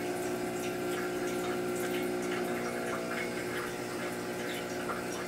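Heat exchanger espresso machine pumping water through the group head during descaling, a steady humming pump drone with water splashing and trickling, close and continuous without speech.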